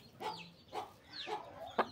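Home-raised hens clucking close by in short, separate calls spread across a couple of seconds, with a sharper squawk near the end and no talking.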